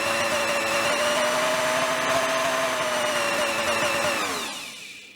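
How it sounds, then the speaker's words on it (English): Repaired Kenwood Chef A901 mixer motor running steadily on a workbench with a smooth whine, then winding down as it switches off. "Just to show the motor working before we put it back on the chef itself"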